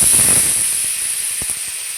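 A ground nut and spice paste fries in hot oil for a patoler recipe, giving a loud steady sizzling hiss with scattered small pops of spattering.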